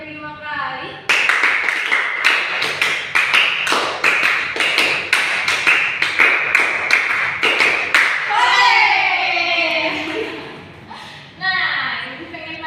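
A group claps hands in rhythmic sets of sharp, close, loud claps with short pauses between bursts, as in a classroom clapping game, followed by children's voices talking and chanting.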